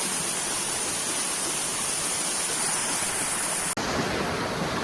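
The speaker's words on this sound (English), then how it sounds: "here's a nice view of behind me of the waterfalls" Waterfall at Excelsior Glen Falls, a steady, loud rushing roar of falling water that fills the whole scene without pause.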